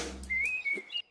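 A single bird chirps in a short, high whistled call with a brief rising flourish at the end, clear and close against near silence.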